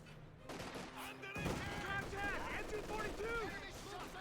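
Gunfire in Company of Heroes 2, a match of German Wehrmacht versus US Forces, with dense bursts of rifle and machine-gun fire and distant battle noise rumbling continuously under a commentator's talk.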